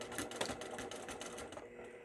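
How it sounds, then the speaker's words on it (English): A sewing machine backstitches on a zippered fabric pouch, giving a short burst of rapid, close mechanical chatter that slows and thins toward the end. "Back stitching."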